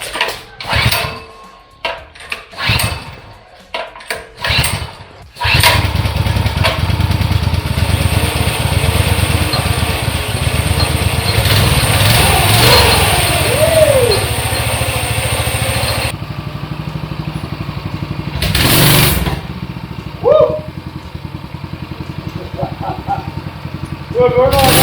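A 6.5 HP engine on a Princess Auto mini bike starts with a few irregular pulls and knocks, then runs in a loud, steady close drone, with people talking over it.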